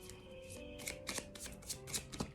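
A Moonology oracle card deck being shuffled by hand, soft riffling flutters and light taps repeating close by at a quiet level over a faint background tone.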